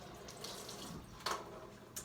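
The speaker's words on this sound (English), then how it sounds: "but I have to rinse this off" Tap water runs steadily into a sink as an item is rinsed off during an elephant toothpaste experiment, a soft continuous splash with a brief louder gush near the end.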